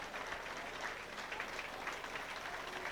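Crowd applause at a men's rugby match between Switzerland and Lithuania in Schaffhausen, a steady wash of clapping from supporters that holds evenly for the whole stretch without pause.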